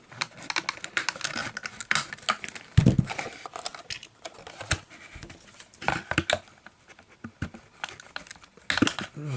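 Snips and crinkles from cutting plastic ties off toy diorama packaging, with a fast, irregular run of close clicks and rustles and one heavier thump near the middle, no talking.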